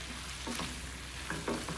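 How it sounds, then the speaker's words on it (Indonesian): Beef and radish stir-frying in a wok as a cornstarch-and-water thickening sauce is stirred in, giving a soft steady sizzle with a few scraping stir strokes. "Masukkan bahan pengentalnya tadi, tepung maizena dan air, aduk sampai kuahnya tuh mengental"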